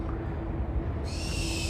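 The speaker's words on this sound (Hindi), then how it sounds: "और फिर मैंने देखा अपनी लाइफ का पहली बार एक आउल यानी उल्लू।" An owl hoots at night in an abandoned theme park, a steady low hooting tone held above a dense rumbling background, with no voices.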